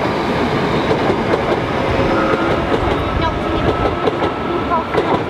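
A train rolls past close by, its steady rumble and clatter of wagon wheels filling the scene continuously at fairly high volume, with no talk over it.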